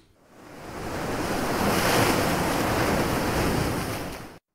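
Sea waves roll in as a broad, steady wash of surf that swells up from quiet, holds full and even for several seconds, then cuts off, with a windy rush mixed in.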